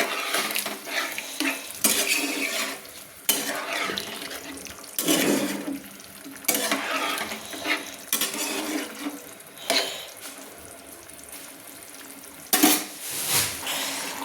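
Papaya curry (dalna) stirred in a pot after water is added: repeated sloshing, clinking strokes of a spoon against the pot, coming in irregular bursts with quieter gaps, close and moderately loud.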